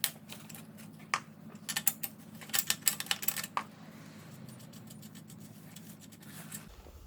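An e-bike wheel is worked off the frame: a quick run of metallic clicks, ratchet ticks and rattles, close and fairly quiet over a low steady hum.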